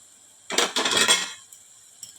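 A metal lid comes off a cooking pot of simmering masala for misal pav with a brief clattering clink, followed by a short metallic rattle and then near quiet.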